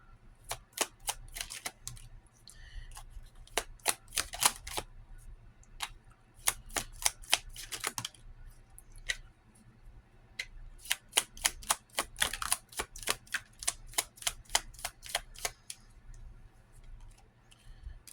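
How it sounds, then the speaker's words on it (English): Tarot cards being shuffled in repeated bursts of crisp riffling snaps, quiet and close, with short pauses between rounds and no talking. "I'm going to shuffle again."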